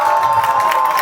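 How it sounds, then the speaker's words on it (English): An audience at a film promotion Q&A event cheers and shouts loudly in a brief, continuous burst, with a steady tone running underneath. "we want to start with a big round of applause"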